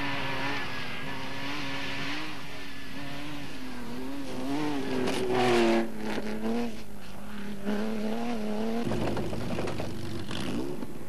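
A Lada Samara T3 rally raid car drives hard, its engine revving and climbing through gears in loud, close sweeps, with changing pitch as it accelerates and lifts, and a sharp burst near the end.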